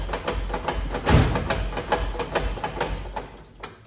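A 1969 Chevy C30 truck clutch gives a close, rhythmic mechanical ticking and rattling, about a dozen regular knocks over a running engine, with one heavier clunk early on and no talk.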